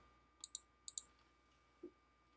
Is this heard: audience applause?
no